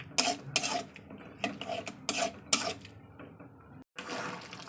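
Spices being stirred and sautéed in a pan over a lit gas flame, with repeated metallic scraping and clinking of a utensil against the pan, followed by a brief gap and then a steady hiss.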